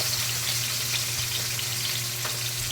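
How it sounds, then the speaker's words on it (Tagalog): Aromatic ingredients sautéing in a little cooking oil give off a constant, fairly loud sizzle with a low steady hum beneath and a few faint stirring scrapes, uninterrupted by speech. "At nilagay ko na ang mga pang-aromatic natin ingredients."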